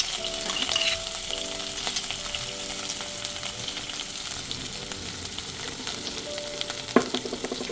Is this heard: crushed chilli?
yes